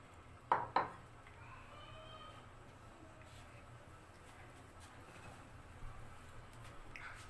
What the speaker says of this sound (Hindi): चम्मच की मदद से ये आपने मिक्स करना है।